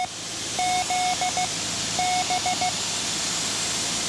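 A VOR navigation station's Morse code identifier, two short groups of steady beeping tone dots and dashes heard in an aircraft headset over a constant cockpit hiss.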